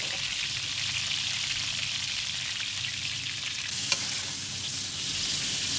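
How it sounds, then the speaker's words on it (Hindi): Frozen koftas fry in hot oil with a steady, close sizzle and crackle throughout, with one small pop near the end and no voices. "इसे हम उसी ऑयल में डालेंगे और फ्राई करेंगे।"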